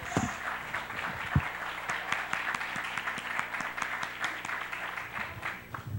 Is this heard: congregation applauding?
yes